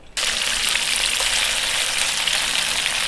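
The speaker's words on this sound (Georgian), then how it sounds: "შეგიძლიათ შეწვათ ხუფის გარეშე, მაგრამ მე მირჩევნია შედარებით დაბალ ცეცხლზე ცოტა ხანი ხუფით შეწვა" Chicken fillet hits a hot pan and bursts into loud, steady sizzling right away, a dense, close, unbroken frying hiss with no talk.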